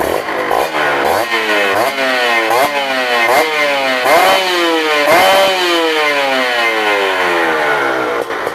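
A Kawasaki KR150 two-stroke motorcycle engine revving hard and repeatedly, loud and close, each throttle blip rising and falling in a fast rhythm with no break.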